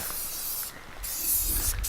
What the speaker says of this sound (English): spray painting the subframe